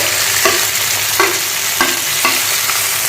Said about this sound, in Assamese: অলপ মই এনেকৈ লৰাই ভাজি বেছি ভাজিব দিব নালাগে আৰু এই বিলাহীখিনিও মই দি দিছো